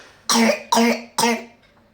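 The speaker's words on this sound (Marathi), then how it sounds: "खोकला पण बघा किती झाला आहे" A young girl gives three sharp, loud coughs in quick succession, evenly spaced, with a faint trailing breath after.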